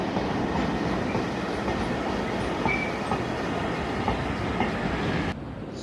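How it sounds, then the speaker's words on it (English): A train rumbles at a London railway station with a steady low rolling roar and faint wheel clatter, moderately distant, cutting off abruptly near the end. "Currently waiting for a train to get to Barking"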